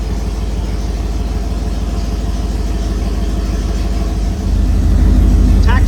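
A Holden VK Commodore engine idling just after start-up, a steady low rumbling burble with a regular pulsing exhaust beat, close and loud, rising slightly in level near the end.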